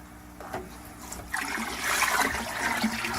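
Water pouring from a pump return pipe into a trickle tower, a soft splashing trickle that swells and grows steadier after the first second, fairly quiet and alone.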